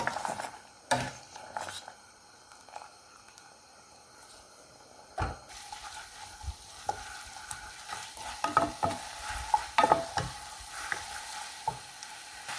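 Cooked spaghetti is stirred through tomato sauce in a pan, giving soft wet scraping and sticky squelching with light clinks of the utensil against the pan, close and quiet with no talking.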